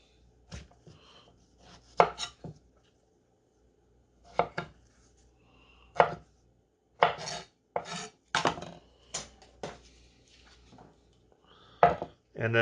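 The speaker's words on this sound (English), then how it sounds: "Okay, so we have a piece of ginger. We're just going to give this a quick trim here." A knife trims a fresh piece of ginger on a cutting board, giving sharp, close chopping knocks in irregular bursts with pauses between them.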